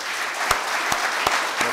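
Congregation applauds the speakers and the priest moderating the day, a continuous, fairly loud wash of clapping with a few sharper, distinct claps punctuating it.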